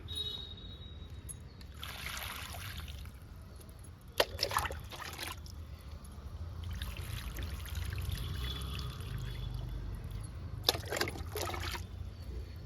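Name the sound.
watering plants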